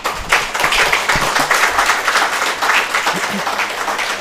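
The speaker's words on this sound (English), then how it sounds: "You received a warm applause here in the hall." A crowd applauds steadily in a reverberant room, a dense patter of many hands clapping at once with no pauses.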